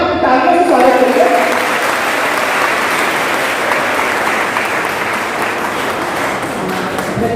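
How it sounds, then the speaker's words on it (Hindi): At a national seminar held at a college in Jaunpur, a hall full of people gives a loud, sustained round of applause to welcome a speaker. The clapping stays dense and even throughout, with a faint murmur of voices underneath. "एक बार फिर आप तालियों से स्वागत करिए"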